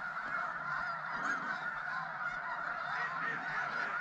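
Snow geese honk from a large flock nearby, a dense, continuous chorus of overlapping calls at steady volume, with no speech on top.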